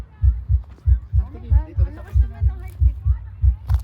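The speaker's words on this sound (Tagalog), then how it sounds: "Heartbeat." A deep, steady heartbeat thumps loudly and rhythmically at a public light art exhibition on Lulu Island, Abu Dhabi, pulsing about every quarter second while someone talks over it.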